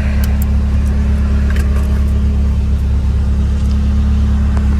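A car fitted with a Spoon N1 muffler idles and pulls away in a launch-control start from a stoplight, giving a loud, steady low exhaust rumble heard from inside the cabin.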